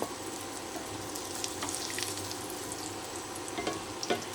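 Japanese sweet potato pieces fry in hot oil with a continuous close sizzle, stirring noises and occasional sharp crackles and pops.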